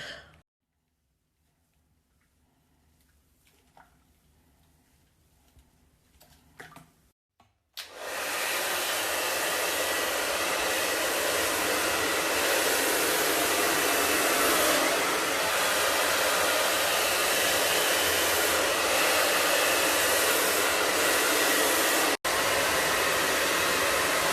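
After a few quiet seconds of faint rustling, a hair dryer switches on close by and blows loudly and steadily while drying hair, with a brief cut near the end.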